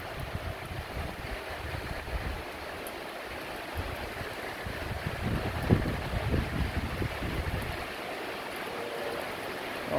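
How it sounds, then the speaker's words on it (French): Wind picks up at the start of a July thunderstorm, with steady roaring gusts and buffeting against the microphone, swelling in the middle and then settling into a constant rush, with no voices. "Ça y est, l'aspect venteux commence."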